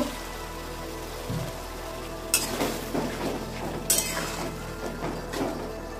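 Spice paste (masala) for a jackfruit chicken curry is stirred and fried in a pan, a constant bubbling sizzle with two sharp bursts of scraping from the spatula.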